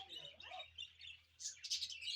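Caged cockatiel, parakeet and cockatoos chirp and tweet in short, bright bursts close by, quiet overall with a low steady hum beneath.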